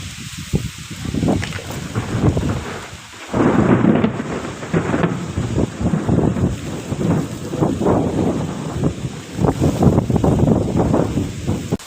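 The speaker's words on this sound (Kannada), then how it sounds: "ಈ ಥರ ಫುಲ್ಲು ಗಾಳಿ ಬೀಸಿ ಮಳೆ ಬರೋ ಥರ ಆಗೋಗ್ಬಿಡ್ತು." Strong storm wind gusts hard against the microphone at about four in the afternoon as heavy rain sets in, a loud, rumbling, buffeting roar that surges and eases over the whole stretch with no talking.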